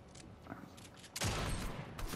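Gunfire in the Fortnite video game: a few faint, scattered shots give way to a loud, sustained burst of rapid fire that fills the second half.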